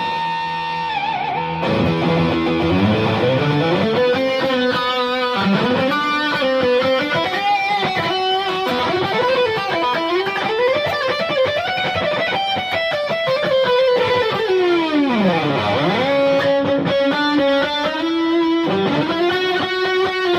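An improvised electric guitar piece played straight through an amplifier with a little reverb, sliding and bending notes ringing out in a continuous, slightly distorted melodic passage.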